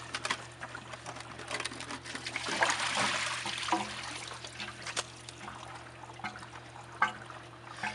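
Water trickles and dribbles quietly out of a pool pump body, a faint, uneven splashing that rises briefly and then thins out against a low background hum.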